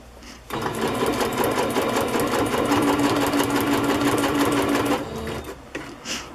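A sewing machine runs a zigzag stitch on fabric for a boho cover, with one steady, close, loud stretch of whirring stitching that stops abruptly near the end.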